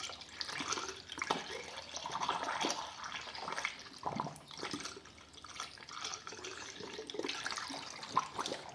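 Blue Honda coolant pours steadily into a funnel on the cooling system of a Honda GL1500 Goldwing motorcycle, a close, continuous liquid trickle and gurgle with small fluctuations throughout.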